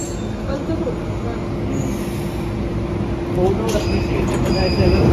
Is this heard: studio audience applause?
no